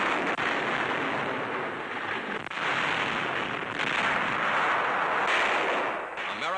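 A sustained World War II artillery barrage in Italy heard as a dense, roaring wall of distant gunfire and booming rumble, continuous and loud with no clear gaps.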